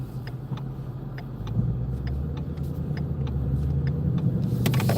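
A Ford Shelby GT350 engine rumbles deep and steady at close range, the low growl swelling gently as it builds, with faint ticking clicks over the drone.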